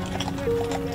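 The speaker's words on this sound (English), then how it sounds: "In a horse-drawn sleigh." Hooves of a horse pulling a horse-drawn sleigh at an outdoor winter festival Santa hat giveaway in Normandy Park, 2020: a brief steady clip-clop close by, mixed with voices and a sustained tonal ringing.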